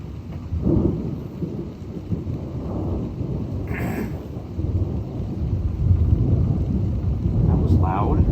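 A summer thunderstorm delivers a continuous, heavy rumble of thunder over steady rain and gusting wind, loud and unbroken throughout, with a brief voice near the end.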